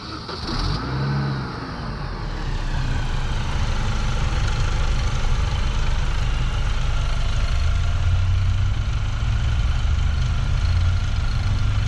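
A Mini Cooper S R53 engine with a newly fitted cold air intake idles steadily and loudly, with a brief rise in revs near the start, then a continuous low drone close to the car with no talk.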